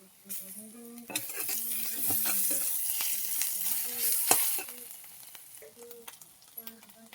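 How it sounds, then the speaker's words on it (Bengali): Onion with ginger-garlic paste sizzles and fries in a pan, a steady close crackle with occasional scraping stirs and utensil knocks against the pan. "পেঁয়াজটাকে লাল লাল করে ভেজে নেব। আদা রসুন বাটাটা দিয়ে দেবো।"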